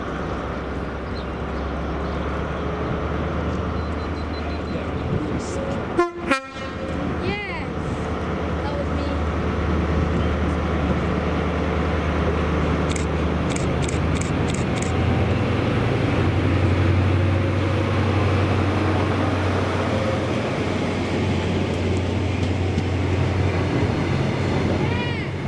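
Passenger train 1T34 hauled by locomotives 43035 and 43138 passes Monifeith with a sustained loud rumble and a horn blast, and voices can be heard over it.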